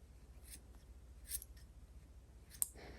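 Scissors snipping yarn pom-poms for a knitting-machine Christmas chocolate orange cover, three faint crisp cuts spaced about a second apart over a quiet low hum.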